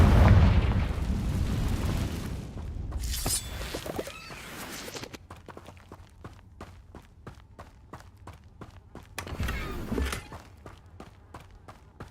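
A Confringo fire spell goes off in Hogwarts Legacy with a loud booming burst and rumbling blast, followed by a quieter stretch of rhythmic footsteps and then a second, smaller fiery eruption.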